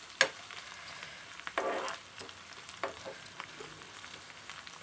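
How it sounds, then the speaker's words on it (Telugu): Ginger paste frying in a pan gives a quiet, steady sizzle, broken by a sharp metallic tap at the start and a few louder stirring scrapes. "పేస్ట్ అయితే అల్లం పేస్ట్ అయితే ఫ్రై అయిపోయింది"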